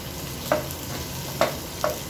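Sliced onions sautéing in a pan for pork adobo, a steady soft sizzle close by with three sharp pops or utensil taps spaced through it; no one speaks.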